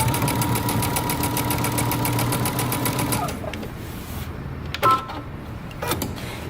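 A sewing machine runs steadily for about three seconds, basting along the top edge of a pair of jeans, then stops; faint handling noises and a couple of brief clicks follow, with no talking.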